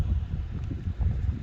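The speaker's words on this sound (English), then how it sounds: "It's pretty windy up here" Low, rumbling wind at a high, exposed campsite buffeting the microphone, steady throughout with gusty swells and no voices.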